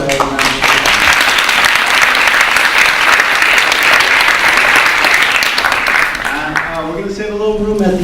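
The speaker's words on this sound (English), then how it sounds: "why don't we give each a round of applause" Steady, loud audience applause at a panel discussion on creative placemaking, a dense wash of many hands clapping for several seconds before tapering off as a voice starts talking.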